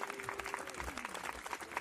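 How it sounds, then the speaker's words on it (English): Applause from a crowd plays back through a computer, a steady wash of clapping under a faint continuous tone, with no voices speaking over it. "Y'all still hear the clapping?"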